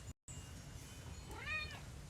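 A house cat gives a single short, rising-and-falling meow from close by, faint against a quiet indoor hiss.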